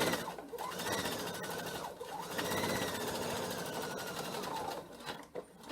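A sewing machine runs steadily, topstitching across the top edge of fabric for a face mask pouch, its fast even whir continuous and close with slight pitch shifts and no talking.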